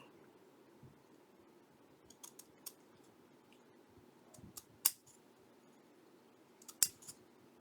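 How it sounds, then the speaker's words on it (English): Scissors snipping paper while assembling a handmade feminine journal: a few scattered soft cuts early, then two sharp, louder snips near the end over a quiet room background. "Not those scissors aren't going to do it."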